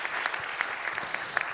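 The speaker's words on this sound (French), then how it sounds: "Je pense qu'on peut les applaudir." An audience applauds the speakers at the close of a talk on the future of mobility, a short, even burst of dense clapping with no voices over it.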